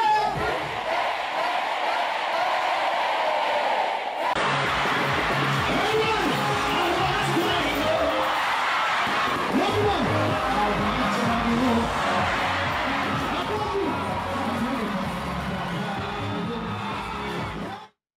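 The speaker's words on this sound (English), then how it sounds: "get a feel of the crowd going wild" A stadium crowd at a concert cheers and screams wildly, a dense, loud roar of voices sustained throughout with whoops rising above the din.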